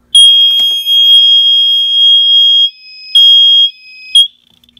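A home alarm system siren sounds with both zones active, giving a piercing, steady high-pitched tone in long bursts that stop and restart, with a short final chirp before silence.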